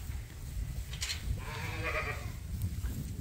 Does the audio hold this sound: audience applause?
no